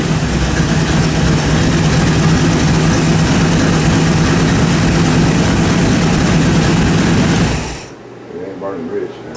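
Willys gasser with a tunnel ram and carburetors, timing backed off about five degrees, runs at a steady loud idle for nearly eight seconds, then cuts off abruptly into quiet.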